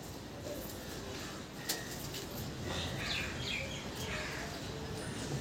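Rajasthani pigeons in a loft coo softly and rustle their wings against a dense background hiss, with one brief flap or knock standing out partway through.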